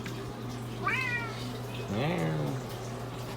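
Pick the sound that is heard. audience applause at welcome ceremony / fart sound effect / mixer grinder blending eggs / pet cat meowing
pet cat meowing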